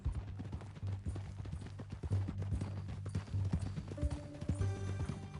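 Steady clip-clop of horse hooves at a walking rhythm in the video game Red Dead Redemption 2, close and clear, with low music droning underneath.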